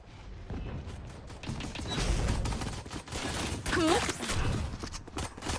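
Valorant match gunfire rattling as bursts of shots throughout, layered with game effects and crowd-like background noise, moderately loud.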